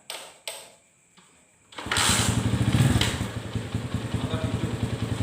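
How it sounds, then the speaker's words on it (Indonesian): A motorcycle with a flat battery is kick-started: a few mechanical clunks, then the single-cylinder engine catches and idles steadily and close up with a pulsing, throbbing rhythm. "Mari saya starter menggunakan starter kick karena aki saya sudah tekor"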